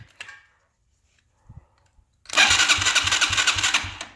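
A Chinese four-wheeler's engine is cranked: a few faint clicks and thumps, then the motor catches and runs loud and close with a rapid, steady putter.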